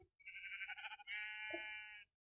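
Sheep in a Minecraft-style survival game bleat twice, a short wavering bleat followed by a longer sustained one with a brief click near its end, loud and alone against a quiet background.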